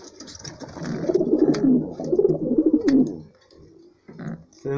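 Homing pigeons coo up close, giving two rolling, throaty phrases one after the other, followed by quieter shuffling.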